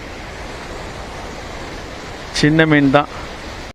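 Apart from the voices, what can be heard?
water flowing over the Krishnagiri dam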